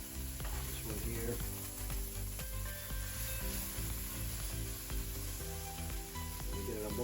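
Meat sizzles in a pan aboard a liveaboard boat after being flipped, a steady close hiss of frying with occasional utensil taps and scrapes, no talk.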